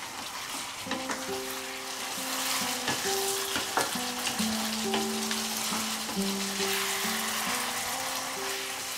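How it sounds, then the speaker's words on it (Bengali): Chicken pieces stir-fried on high flame for malai chicken, a continuous loud sizzle with scraping stirs, overlaid by a steady tonal hum from the stove or kitchen fan, no voices. "আমি ফ্লেমটাকে বাড়িয়ে দিয়ে মাংসটাকে আরেকটু কষিয়ে নেব।"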